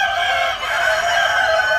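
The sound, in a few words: farm rooster crowing and hens clucking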